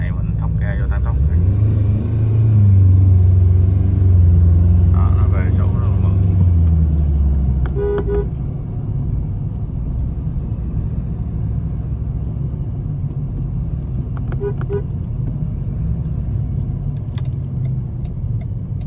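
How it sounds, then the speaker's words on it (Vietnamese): Ford Ranger Raptor 2019 with a remapped 10-speed gearbox accelerating hard on the road, its loud, deep engine roar swelling over the first several seconds, then settling into a steady rumble of road and cabin noise while a voice talks over it. "Còn bây giờ mình sẽ test cho các bạn xem cái phần mà đang chạy mình thốc ga vô tăng tốc."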